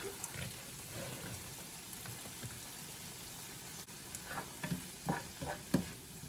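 Shrimp being mixed with seasoning in a bowl, heard as soft wet stirring and a few light knocks over a steady background hiss, quiet and close.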